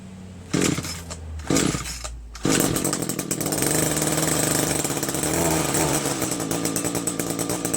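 A Craftsman Bushwacker curved-shaft trimmer's small engine sputters through a few pull-start bursts, then catches and runs loud and close with a steady rattling buzz.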